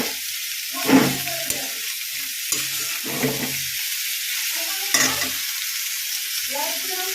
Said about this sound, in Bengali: এখন আমি দিয়ে দেবো মিষ্টি কুমড়ার শাকটা। ভালো মতো নাড়াচাড়া করে সেদ্ধ করে নিতে হবে।